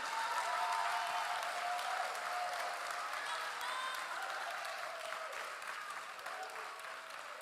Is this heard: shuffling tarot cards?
no